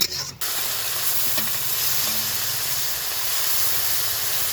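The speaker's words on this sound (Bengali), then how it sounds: "খুব ভালোভাবে ভেজে নেব" Shrimp fry in oil with jute leaves in a pan, giving a steady, hissing sizzle up close that runs on evenly after a brief clatter at the start, with no talking.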